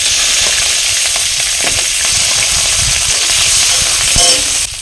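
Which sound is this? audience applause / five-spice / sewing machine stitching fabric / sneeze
five-spice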